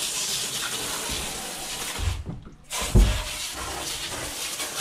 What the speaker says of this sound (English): Okay guys, water's running